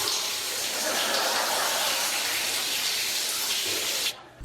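A shower runs with a loud, steady hiss of spraying water that cuts off abruptly near the end.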